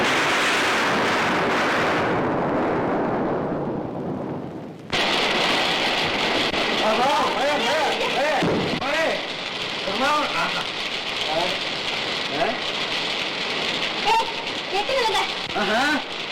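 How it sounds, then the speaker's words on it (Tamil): Heavy rain pours steadily throughout, with a deep thunder rumble early on and a sudden cutoff and restart, while voices speak over the downpour. "ஐயோ, இடியா அடிக்குதே."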